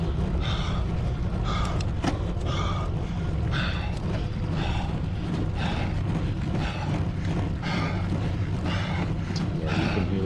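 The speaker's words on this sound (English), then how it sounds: "you can hear that breathing now" A cyclist breathes hard during a hard power effort: loud, rhythmic gasping breaths repeat roughly every second over a constant low mechanical drone from the bike and trainer.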